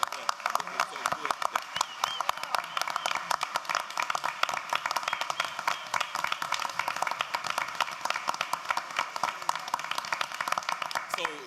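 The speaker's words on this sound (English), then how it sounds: "they deserve a round of applause." Audience at a Tuscaloosa City Schools board meeting applauds district-winning students, with sustained, fairly dense clapping from a modest crowd that continues evenly for several seconds with faint voices mixed in.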